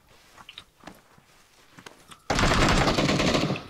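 Gunfire in the PUBG video game: a few scattered clicks and pops, then a sudden dense burst of rapid automatic shots that runs loud and continuous to the end.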